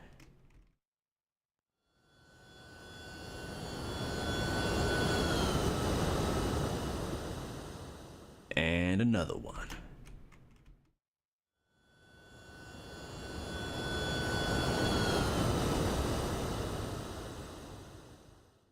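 A UPS MD-11 tri-jet in X-Plane makes two exterior flyby passes, each a roaring jet engine swell that rises, peaks and fades, with a short break of warbling noise between them and a brief spoken remark.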